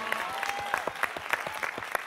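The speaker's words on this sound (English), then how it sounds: "You can clap better for Jesus." A brief burst of energetic clapping from a church congregation, with a sustained tone ringing faintly beneath.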